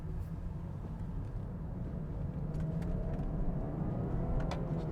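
A BMW 740i M-Sport luxury sedan accelerating, heard as a steady low engine rumble and road noise from inside the cabin, swelling slightly as it pulls, with no talking.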